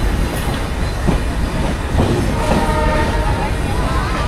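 A train rolls to a stop near the rail gate short of Ishwardi station, with a steady heavy rumble, faint wheel clatter and a thin squeal. A voice can be heard faintly in the carriage.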